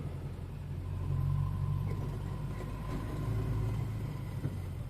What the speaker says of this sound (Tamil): அங்கே பாருங்க ஒரு கார் போயிடுச்சு பென்ஸ் கார்